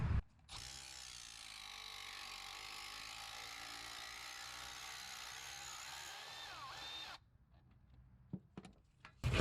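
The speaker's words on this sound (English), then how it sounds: "you're gonna take off all 3 10mm bolts." Ratchet spinning out 10mm bolts from the thermostat housing of a 2007-2016 Honda CR-V, giving a steady, continuous mechanical whir for about seven seconds, close and loud, then stopping abruptly, followed by a few faint clicks and taps.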